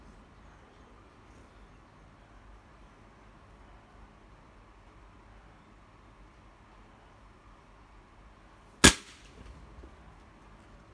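A Slavia 634 air rifle fires a slug into a pine board: a single sharp, loud crack near the end cuts through otherwise quiet, faint background hiss.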